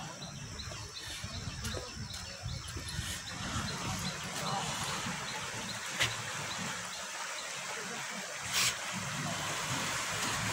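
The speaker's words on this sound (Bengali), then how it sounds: "সামনে কিন্তু আমরা পানির ঝনঝনানি শুনছি" Steady, broad rushing of water at Mahamaya Eco Park fills the background without a break, with a couple of faint bird chirps.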